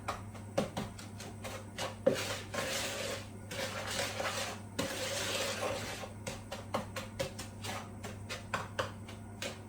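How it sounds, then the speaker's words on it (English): A spoon or whisk stirs granulated sugar and soft brown sugar together in a mixing bowl. The scraping is gritty and repetitive, with rhythmic taps and rasps close by, and no talk. "And give them a mix and mix them together."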